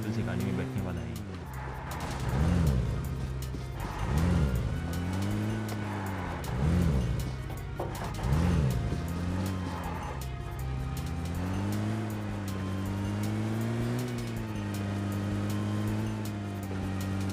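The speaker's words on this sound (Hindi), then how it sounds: "तभी मैं गाड़ी लेके आया, उसको बोला बैठ गाड़ी में।" A car in PUBG Mobile drives with a continuous engine hum that swells and dips in repeated revving surges, then settles into a steadier drone. Someone talks over it throughout.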